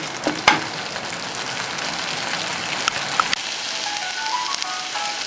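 A palak paneer mixture simmers in a pan on a stove over a low flame, giving a steady, close hiss of bubbling and sizzling throughout, with a few small pops and taps and no talking.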